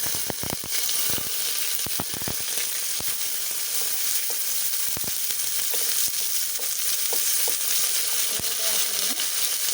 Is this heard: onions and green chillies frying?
yes